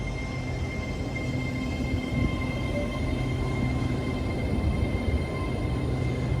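An LNER train moves through a station with a steady, loud rumble of wheels on rails and a faint tonal hum, holding constant without pauses.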